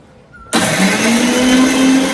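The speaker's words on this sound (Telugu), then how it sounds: "మిక్సీకి పట్టేసి పేస్ట్ చేశాను" After a brief quiet moment, a mixer grinder starts up and runs loud and steady, whirring as it blends cut beetroot pieces into a paste.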